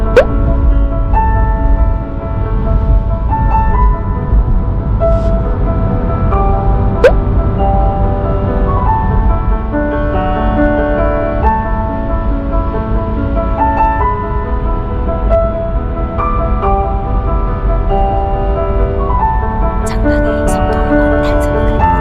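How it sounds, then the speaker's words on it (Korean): Mozart's classical music plays through the upgraded hi-fi speakers of a Tesla Model 3, filling the cabin with dense, continuous orchestral sound. The playback is loud and steady, with a strong low end. "소리가 모차르트 음악, 클래식 음악은 저작권이 없으니까 한번 틀어드릴게요."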